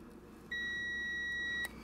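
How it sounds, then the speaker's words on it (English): A multimeter continuity-test beep on a fuse: a single steady electronic beep for about a second, clear and close, against a faint background hum. "let's see if we get a beepy beep"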